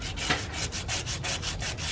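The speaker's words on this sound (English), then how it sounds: "Now we're just going to use some sandpaper" Sandpaper rubs back and forth over a Chrysler Town and Country wheel hub, about eight steady rasping strokes in an even rhythm, close and fairly loud with no talking.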